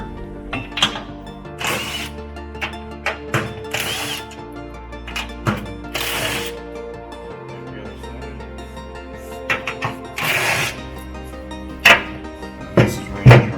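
Power tool spinning bolts off a Swisher 44-inch pull-behind rough cut mower, several short loud whirring bursts separated by pauses, with clanks and handling noises in between.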